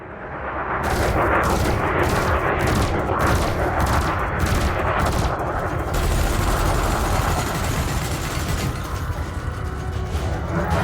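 Rapid bursts of spaceship cannon fire in a space combat video game, a quick series of loud, evenly spaced shots near the start that give way to a sustained roaring hum.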